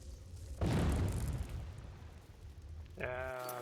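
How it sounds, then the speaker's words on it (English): Magical explosions in the video game Elder Scrolls: Oblivion: one loud, sudden boom that rumbles and fades over a couple of seconds, followed by a brighter tonal effect. "Those damn magical explosions strewing everything about."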